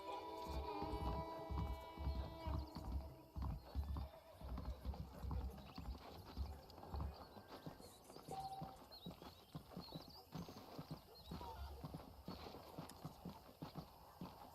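Horse hooves clip-clop steadily in Red Dead Redemption as a saddled horse is ridden, a rhythmic trotting beat with an occasional whinny and a low hum beneath, fairly quiet throughout.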